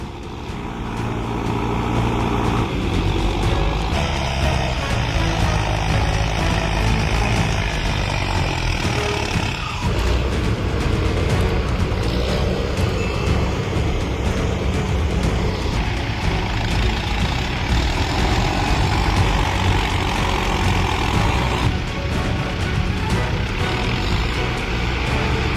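Tractors strain to drag a heavy machine out of mud, a dense, continuous low engine roar with grinding and rumbling that holds steady and loud throughout.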